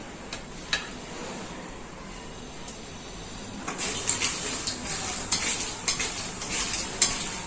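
Cloves, black pepper and cinnamon spluttering as they roast in hot oil in a home kitchen, with a steady soft sizzle and sharp crackles and pops that grow busier in the second half.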